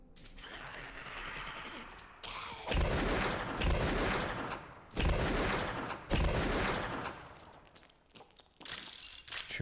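Gunfire in the indie horror shooter Mother Hub: several loud, heavy bursts of shots in separate volleys, each cutting off sharply, with no talking over them.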